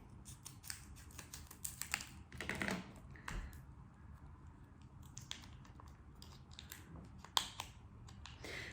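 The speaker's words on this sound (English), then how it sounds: "take a pair of scissors and carefully cut open the top of your packet of clay" Scissors snip open the top of a plastic packet of modelling clay, quiet close-up crinkling and a few crisp cuts, faint and intermittent against a soft room background.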